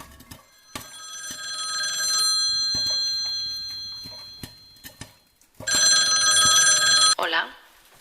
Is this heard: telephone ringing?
yes